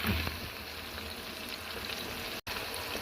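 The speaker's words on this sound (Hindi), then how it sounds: "प्याज काट के तो उसको मैंने फ्राई करने के लिए ऊपर रखा हुआ है।" Long-sliced onions frying in oil for a Bombay-style chicken biryani, giving a steady close sizzle and crackle that runs throughout with one very brief dropout near the end.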